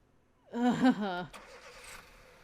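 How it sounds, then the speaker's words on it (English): A taxi cab's engine revs hard and pulls away down a street, with a short sharp knock from the car door slamming. The sound is fairly close and brief, then fades out. "the cabbie jumped into his car, slammed the door, and revved off down the street"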